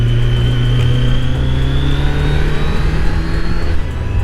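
Kawasaki Z900 motorcycle engine droning steadily while riding on a fall road, loud and close, with a rising whine as it accelerates and no talking.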